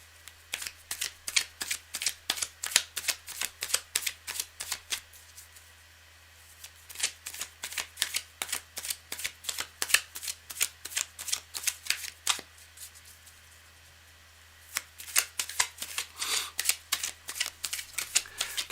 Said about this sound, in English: Okay, I'm going to shuffle this a bit more, but Karen